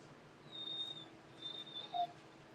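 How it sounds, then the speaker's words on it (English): A puppy whimpers and cries in a few faint, thin, high-pitched whines, spaced apart in a quiet indoor room. "And the puppy's crying."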